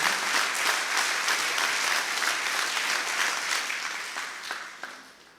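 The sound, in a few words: audience applause in support of the Armenian Apostolic Church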